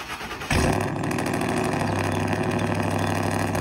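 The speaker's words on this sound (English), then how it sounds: "All right, yeah, this truck is very loud." A loud squatted truck engine starts up with a burst and then idles steadily in a deep, rumbling drone, close by.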